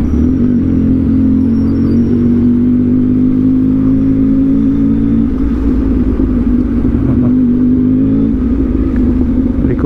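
Busy road traffic with cars and motorcycles passing close by, a loud, continuous engine drone and rumble with rising and falling revs, no voices.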